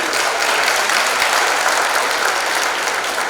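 A graduation crowd applauds a high school scholarship recipient, giving loud, continuous clapping that stays steady from start to finish.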